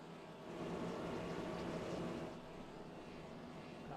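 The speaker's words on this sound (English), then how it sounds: "it definitely sounds like someone seems to be stuck in neutral as they're trying to get out." In a sim racing game's Bristol dirt race, a race car engine stuck in neutral on pit road gives a faint, steady droning hum that swells slightly and then settles.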